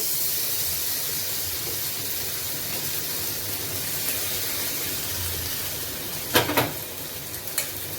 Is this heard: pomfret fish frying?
yes